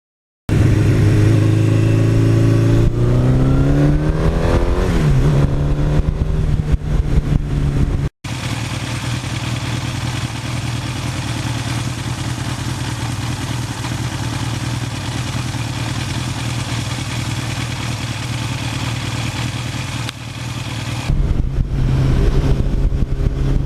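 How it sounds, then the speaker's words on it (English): A 1982 Suzuki GS1100E motorcycle engine is heard loud and close, revving up with a rising pitch, then holding a steady, strong drone while accelerating, with a brief cut and a final shift in tone near the end. "you just roll the throttle on, and that beautiful torque, smooth as can be."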